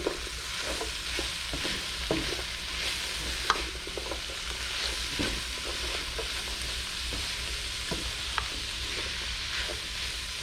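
Vegetables cook in a pan over medium heat, giving a steady close sizzle and hiss. Scattered scrapes and knocks come from stirring now and then.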